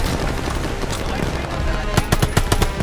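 Machine gun fire in Call of Duty: Vanguard, a steady clatter of battle noise that sharpens into a loud, rapid string of close shots near the end.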